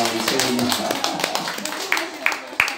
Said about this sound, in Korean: 서연이 박수 한번 합시다.